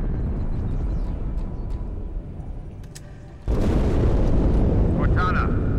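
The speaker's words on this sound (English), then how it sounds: "That explosion came from inside the Athens." An explosion inside the Athens ship in Halo 2 on Legendary erupts partway through as a sudden loud, sustained rumbling roar that cuts in over a steadier, lower background noise.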